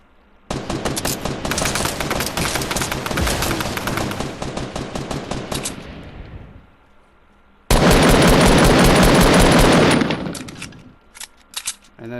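Rapid automatic gunfire from the Fortnite battle royale video game: a long sustained burst, a pause, then another dense burst, loud and close, followed by a few scattered single shots.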